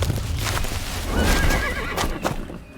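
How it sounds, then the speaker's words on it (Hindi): A galloping horse is suddenly reined in and gives a loud, close whinny, with clip-clop hoofbeats continuing around it. "ड्रैकुला ने अचानक अपने दौड़ते घोड़े पर लगाम लगाई"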